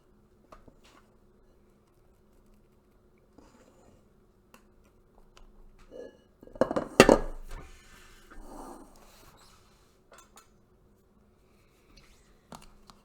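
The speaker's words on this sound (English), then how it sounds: "Using my offset spatula, just kind of getting it around here." An offset spatula spreads frosting over a hot chocolate cake, giving a short run of soft, close scraping and smearing strokes in the middle of an otherwise quiet stretch.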